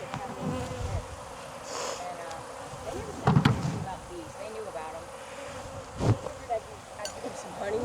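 Bees swarm around a hive in a Jacksonville, Florida yard, a steady close drone of buzzing wings with a few sharper, louder bursts rising and fading over the hum.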